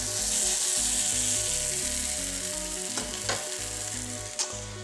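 A pancake with cheese and ham frying in a pan, a steady close sizzle with crackling spits and a low rhythmic hum running underneath, with no talk.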